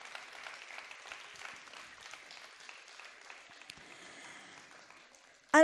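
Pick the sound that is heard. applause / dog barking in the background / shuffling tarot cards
applause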